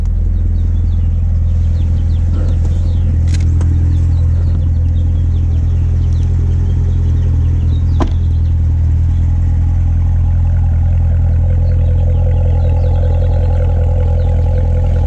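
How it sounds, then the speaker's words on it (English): Sports car in track mode idling with all four exhausts open, heard from outside as a loud, steady deep rumble with a couple of brief clatters and no talking. "As you can see with track mode, all 4 exhausts are active right now."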